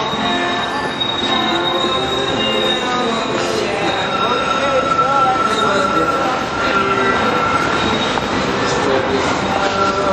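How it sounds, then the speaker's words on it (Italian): A Milan metro train rumbles loudly and continuously, with wheels squealing and grinding along the rails through the underground, heard up close from inside. "Prendiamo questa metropolitana"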